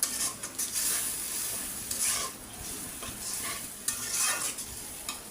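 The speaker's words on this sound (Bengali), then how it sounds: "একেবারে ভাজা ভাজা করে কষায়া" Chicken masala stir-fried in a pan for a spicy Bengali chicken curry, with a steady loud sizzle and repeated scraping strokes of a spatula across the pan.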